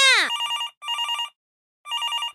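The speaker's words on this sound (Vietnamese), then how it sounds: "hình như có điện thoại đổ chuông kìa" A cartoon telephone rings in an animated show, a rapid electronic trill in three bursts with a short gap between the first two and a longer pause before the third. It follows a brief descending musical tone.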